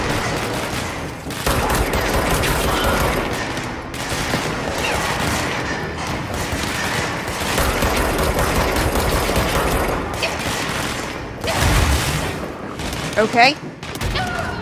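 Bursts of gunfire ring out in the video game Control, with rapid, dense volleys continuing through most of the stretch and a heavier thump near the end. Someone speaks briefly over the shooting.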